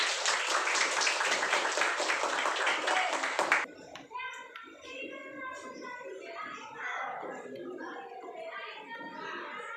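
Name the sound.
audience applause for group 1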